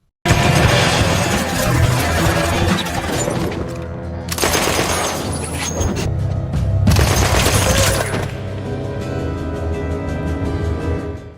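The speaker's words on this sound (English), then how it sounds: "They follow Thomas to a dead end, where they are ambushed with a machine gun." Loud, sustained machine gun fire in an ambush at a dead end, with rapid overlapping bursts, shattering and booming impacts running continuously for over ten seconds.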